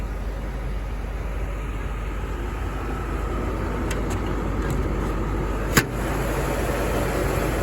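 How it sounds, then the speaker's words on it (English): A 1991 Mercedes 500SL R129 with its engine running, a steady broadband idle hum held at an even level throughout, with one brief click partway through and no talking. "That's the engine."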